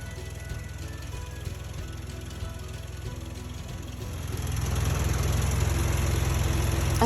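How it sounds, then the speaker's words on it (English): An International Harvester farm tractor engine runs steadily in a low, droning idle, then grows louder and rougher about two-thirds through as it revs up or pulls away, with no talking. "This time, we're going to ride the International Harvester,"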